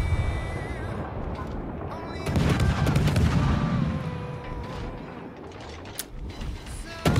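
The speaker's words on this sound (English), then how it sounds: "he's returning fire with AP at the Venezia's broadside" Naval guns fire armour-piercing shells in World of Warships, heavy booming salvos with a long rumbling tail in the middle, then sharper single reports toward the end amid game noise, with faint speech.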